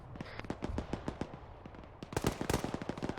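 Gunfire in an Arma military simulation, a string of sharp irregular shots at moderate distance that thickens into a denser, louder volley of overlapping bursts in the second half, with no talk.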